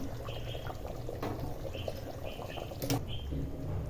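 Hot water is poured into a pot of Gavran chicken curry while cooking, a soft steady splashing with light drips and clinks, faint and close.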